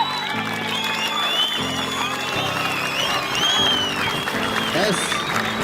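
An audience applauds steadily at a roadside performance where a man shows stunts on a bicycle, the clapping dense and continuous throughout while a steady tone and faint voices sit underneath.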